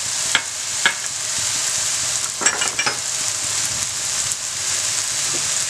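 Coriander powder and other spices frying in oil in a pan for chicken biryani, a steady bright sizzle broken by occasional stirring clicks and scrapes.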